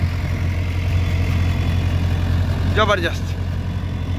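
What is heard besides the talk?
Sonalika DI 750 III tractor engine pulling leveller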